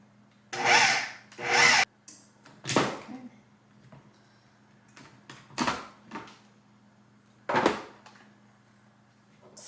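One slightly beaten egg and a teaspoon of vanilla are mixed for a keto blueberry danish, with short, loud bursts of whirring mixing that stop and start irregularly amid quiet gaps.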